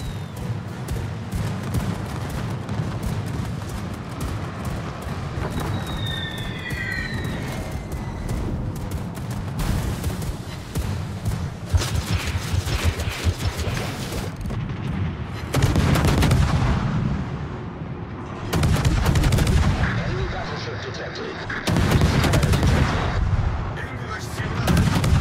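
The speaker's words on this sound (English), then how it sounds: "Anti-aircraft gun crews are on full alert." Anti-aircraft guns firing aboard the cruiser Jinan in a naval video game, rapid loud bursts of gunfire and booms in repeated volleys over a continuous battle rumble.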